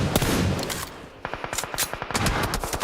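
Rapid automatic gunfire from the mobile battle-royale game PUBG Mobile during an esports world cup match, with loud bursts and a fast staccato stream of shots ringing out close.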